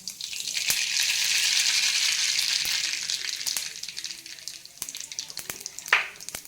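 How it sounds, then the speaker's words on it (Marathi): Cumin and mustard seeds sizzle in hot oil, a loud, close, hissing crackle that fades gradually over several seconds into lighter popping and occasional clicks of a utensil, with no talk. "आपण यात जिरे मोहरी टाकूया।"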